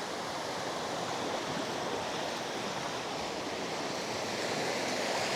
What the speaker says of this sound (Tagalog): Sobrang linaw, sobrang kalmado lang din ang dagat.